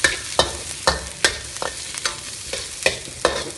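Bamboo shoots are stir-fried in a pan for a crispy noodle dish, with sharp periodic clatters of the spatula tossing them roughly twice a second over a steady sizzle, close and alone.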